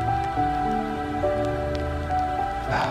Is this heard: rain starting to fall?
yes